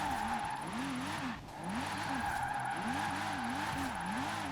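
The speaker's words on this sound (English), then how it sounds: "A little bit of power sliding turned into drifting." A LEGO Porsche drifts sideways through corners in the Forza Horizon 4 video game, its engine revving up and down in a steady wavering rhythm over a continuous hiss of skidding tires, loud and close with one brief dip, and no talking.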